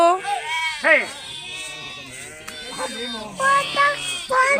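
Several sheep bleat nearby, overlapping with people talking in the background.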